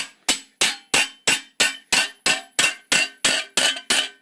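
A dozen sharp metallic hammer blows on a steel armor plate for late 14th-century greaves, in a steady, even rhythm, each ringing briefly before the next strike, close and loud with no voices.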